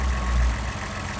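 A 2020 Ford F-150 XLT 4x4 with a 2.7-liter V6 engine and automatic transmission idles steadily, a continuous low rumble with a hiss on top, heard close and with no voices.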